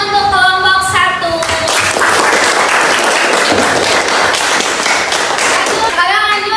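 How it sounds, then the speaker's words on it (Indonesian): A classroom audience claps for a student group during a teaching performance session, loud sustained applause filling the whole stretch at close range. "Beri tepuk tangan untuk kelompok 1"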